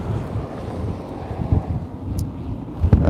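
Low, rumbling wind buffets the microphone steadily throughout near the Grindavik volcano area in Iceland, with gusty bumps and faint water or boat noise beneath.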